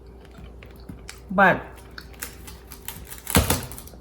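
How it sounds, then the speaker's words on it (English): Homemade cashew brittle made with jaggery and salted cashews is bitten, giving two loud, brittle crunches about two seconds apart, close to the mic, with a brief spoken word between. "if I try it, I don't know if you can hear the crunch"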